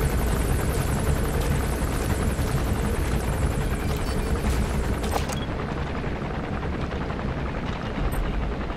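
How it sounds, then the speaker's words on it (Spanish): A helicopter in Metal Gear Solid V: The Phantom Pain gives off a loud, continuous rotor thrum and whine that stays steady throughout, with faint clanks mixed in around the middle. "Además está el helicóptero aquí."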